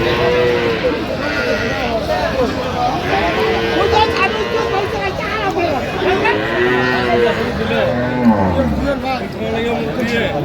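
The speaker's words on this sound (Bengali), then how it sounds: "গাভী বাছুর" Cows and calves at a busy Bangladeshi cattle market (Aftabganj haat) moo repeatedly, several drawn-out calls overlapping at close range under steady crowd chatter and voices.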